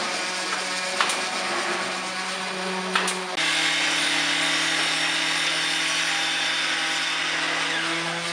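A power tool sands wood trim on interior walls during a cafe remodel, giving a loud, steady mechanical whine with a brief catch near the start and a pitch shift after a few seconds, running continuously throughout.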